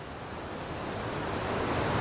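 The Gosthani river flows through a cave, making a dense, steady rushing of water that grows slightly louder, with no voices.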